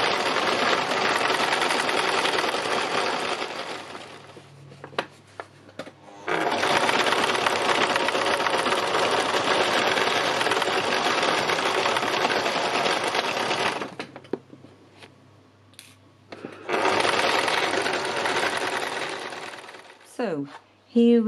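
A sewing machine stitches fabric pieces in long, fast whirring runs, stopping briefly between them, with a short pause and a few light clicks before it starts again.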